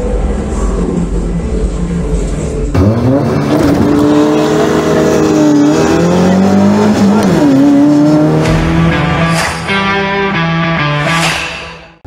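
Racing cars in the over-1800 cc class roar around a wet track in rain, engines loud and revving with rising and falling pitch as they pass, tires squealing, continuous and close with no talk.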